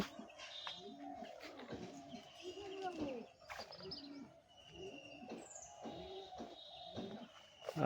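Pigeons coo softly in repeated low calls outside a shared pigeon and chicken house, with other birds chirping nearby and faint background noise throughout.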